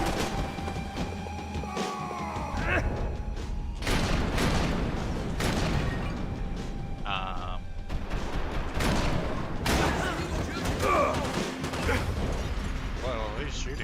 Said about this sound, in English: who's shooting me?